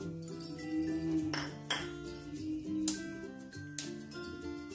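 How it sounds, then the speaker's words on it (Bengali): Fennel seeds tipped by the spoonful into a nonstick pan make scattered small clinks and taps, with a few sharper hits standing out over a steady hum of background music. "একটা ননস্টিক কড়াইতে 2 চামচ মৌরি দিয়ে দেবো"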